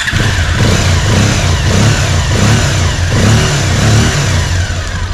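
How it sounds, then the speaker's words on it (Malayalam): Freshly worked-on motorcycle engine running loud and close, holding a steady throaty revving drone with a slight mechanical rattle throughout. "പിന്നെ എൻജിൻ നോയ്സ് ചെറുതായിട്ടുണ്ട് കേട്ടോ."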